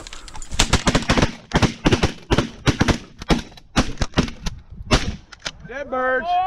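Shotguns fire rapidly during a bird hunt, a dense burst of sharp, loud blasts in quick succession, then a bird calls briefly at the end.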